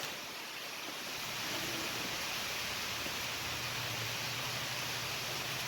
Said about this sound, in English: hear the rain on the metal roof in the background